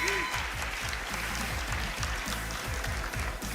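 A crowd at an esports fighting-game tournament applauds and cheers in a loud, continuous wash, with game sounds thumping rhythmically underneath.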